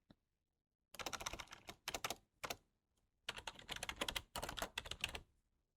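Bursts of computer keyboard typing, entering a product title: a quick tap, then rapid clustered keystrokes in several runs with short pauses, close and clear, no voices.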